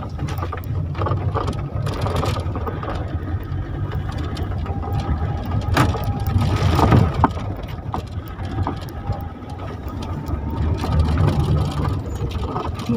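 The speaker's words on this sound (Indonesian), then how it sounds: "tapi tetap namanya diesel itu pasti suara mesinnya masuk ke dalam ya" Inside the cabin of a 2008 Toyota Fortuner with a manual gearbox, the diesel engine makes a steady, close, low droning rumble with a mechanical clatter layered over it.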